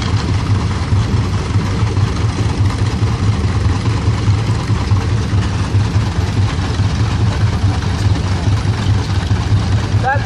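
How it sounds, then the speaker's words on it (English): A 1913 Case 40-horse steam traction engine rolls along in a tractor parade, giving a steady, loud low rumble and chug that holds unbroken throughout, with general outdoor noise around it. "This next tractor is a Case 40-horse steam traction engine, 1913 40-horse Case."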